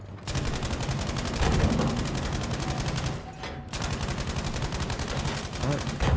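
Sustained automatic gunfire in the video game Battlefield 5, a dense fast rattle of shots that runs almost without a break and stays loud and close throughout.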